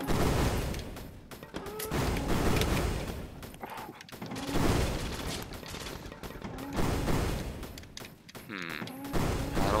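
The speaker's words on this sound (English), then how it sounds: "those fireworks, lots of damage" Rapid bursts of fireworks launching and exploding in the video game Risk of Rain, a loud clustered barrage of cracks and pops that surges and fades in waves alongside game music.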